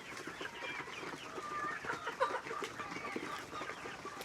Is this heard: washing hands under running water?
no